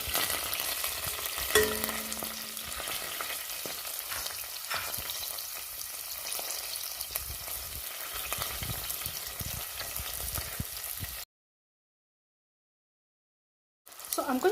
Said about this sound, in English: So I'm going to cook the onions until they turn brown.